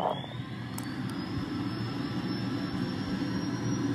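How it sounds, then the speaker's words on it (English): An F-16 jet engine spins up in the DeltaWing flight simulator, a steady broadband rumble and hiss with a thin rising whine above it, continuous and moderately quiet, no voices. "Okay, now we can start our engine."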